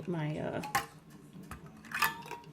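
Metal canning bands and lids placed onto jars while canning butternut squash, two bright metallic clinks about a second apart under a voice talking.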